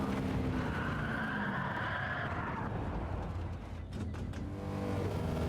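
A 1958 C1 Corvette engine roars steadily in a racing video game as it laps a track, with tire skidding through the corners and a brief dip in the engine note near the end.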